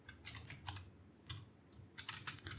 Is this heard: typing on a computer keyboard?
yes